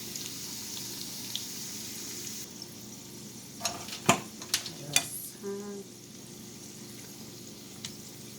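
Homemade egg rolls pan-fry in oil with a steady low sizzle, broken midway by a few sharp clattering knocks and stirs, with no one talking.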